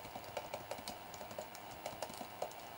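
Python code being typed on a computer keyboard: a quiet, irregular patter of light key clicks, close but soft, with no voices.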